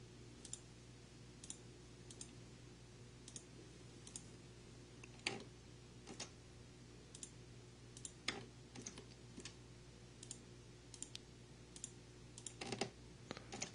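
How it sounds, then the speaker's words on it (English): Computer keyboard keys, including the Alt key, click sparsely and faintly in a quiet room over a steady low hum, with irregular single taps and a few quick clusters. "I'm just driving your Alt key down through the keyboard. You hear that?"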